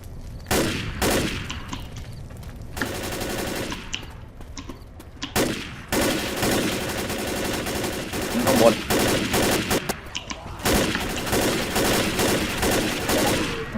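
Rapid gunfire in the zombie shooter Left 4 Dead crackles in repeated bursts, some sustained and automatic, others sharp single shots, loud and close with brief gaps between volleys.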